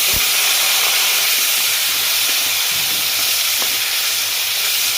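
Sliced onion hits hot oil in a pan, already tinged with turmeric, for a prawn and pointed gourd korma. A loud, steady broadband sizzle and hiss fills the whole stretch, with a few faint knocks and no speech.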